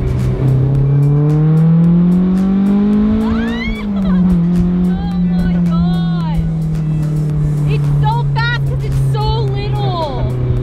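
A Honda S2000 engine with a Spoon exhaust hums steadily with a throaty exhaust note, revving up and easing off while people talk over it.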